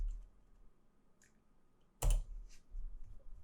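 Someone types a command at a Windows command prompt on a computer keyboard: a single sharp cluster of key clicks, then a few softer taps in a quiet room.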